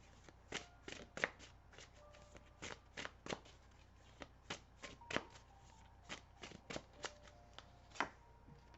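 Tarot cards being shuffled up close, a quiet run of crisp, irregular riffling flicks and soft slaps that repeat steadily for several seconds with no voice over them.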